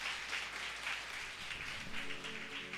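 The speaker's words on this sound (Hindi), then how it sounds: "अरे उसको ताली के हकदार है कि नहीं धन्यवाद के?" A church congregation at a Sunday service breaks into steady, moderately distant applause that continues evenly with no speech over it.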